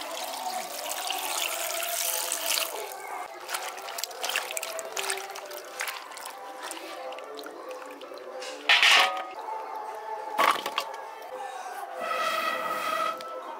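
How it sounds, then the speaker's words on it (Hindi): Small chopped potato pieces are washed in water in a kitchen. There is continuous sloshing and swirling of water close by, with splashes and a brief clatter of pieces against a vessel. "अब इसको धो देते हैं।"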